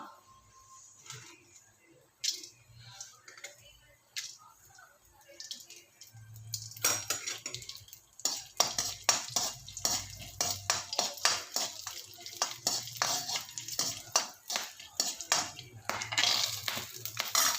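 Cinnamon and small onions sautéing in a pan for cauliflower gravy, starting with faint clinks before a rising crackling sizzle with frequent sharp spoon scrapes and taps, close and fairly busy.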